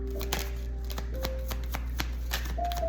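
Tarot cards are shuffled in quick, close, crisp riffling flicks repeating irregularly over a constant low electrical hum, with a faint tone shifting in the background.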